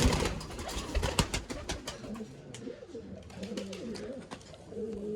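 Pigeons coo repeatedly in a loft, soft throaty calls overlapping with scattered rustling and wing flutters close by, with no talk heard.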